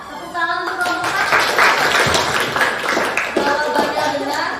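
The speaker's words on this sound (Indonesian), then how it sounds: "Tepuk tangan untuk kelompok 4." Students in a classroom clap for a student group, a brisk burst of hand claps mixed with children's voices and a teacher speaking, fairly close and moderately loud.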